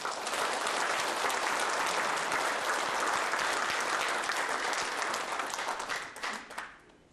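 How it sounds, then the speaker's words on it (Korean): Warm applause from an audience at a 2009 inauguration ceremony for a memorial association's second president, dense and steady clapping that fades out near the end. "여러분 다 같이 뜨거운 박수를 부탁드립니다"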